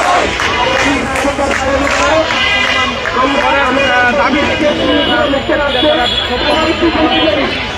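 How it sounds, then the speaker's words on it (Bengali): Nursing students protest at Shahbag in front of the National Museum, a loud, dense crowd chanting slogans and cheering continuously with overlapping voices throughout. "তারা জড়ো হয়ে এখানে তাদের দাবির পক্ষে নানান ধরনের স্লোগান দিচ্ছেন"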